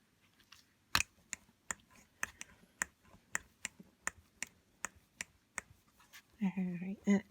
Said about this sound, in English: my wedding ring hitting the roller